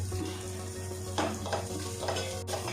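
Turmeric and chili powder frying in a pan, a continuous close sizzle with several stirring scrapes cutting through, steady hum underneath and no voices.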